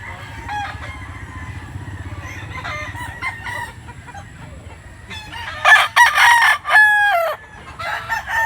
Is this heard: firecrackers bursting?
no